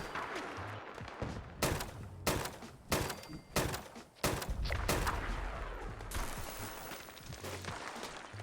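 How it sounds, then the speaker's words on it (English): The Resolve Breaker gun fires in Fallout 76, six or seven loud, punchy shots spaced about half a second to a second apart, each with a booming tail over ongoing game background noise and a rumbling sustained blast near the middle. "let's test how the Resolve Breaker does, kind of just in the open. Just fire a couple shots here."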